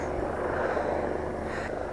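A helicopter carrying an underslung load near Mont Blanc gives off a steady, broad engine and rotor roar, moderately distant and unbroken throughout.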